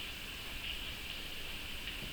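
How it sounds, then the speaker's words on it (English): Steady rain falling outside, a faint, even hiss with no other sounds over it. "There's the rain"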